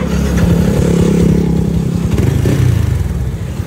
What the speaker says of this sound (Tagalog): Gumana na yung motor, napaandar ko na